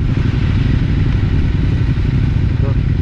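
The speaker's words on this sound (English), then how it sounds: "I can certainly hear some bikes." Adventure motorcycles on a North Yorkshire trail, heard as a loud continuous engine drone with rumbling wind buffeting close to the rider, and no clear talk over it.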